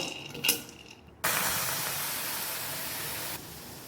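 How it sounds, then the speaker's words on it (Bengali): Water poured into a hot pan of fried bean seeds, a faint sizzle and clink first, then a sudden loud steam hiss that holds steady for about two seconds before easing slightly. "এখন সেদ্ধ করার জন্য জল দিয়ে দেবো।"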